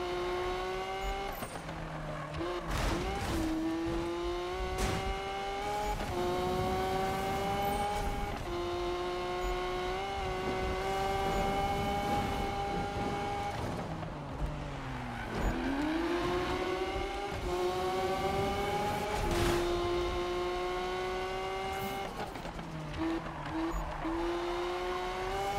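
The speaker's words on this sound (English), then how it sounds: "The Aventador has a blow-off valve, apparently. Must be turbocharged." A Lamborghini Aventador in Need for Speed revs hard through repeated gear changes, its engine pitch climbing and dropping in loud waves, with a blow-off valve hiss and tire noise between shifts, no talk.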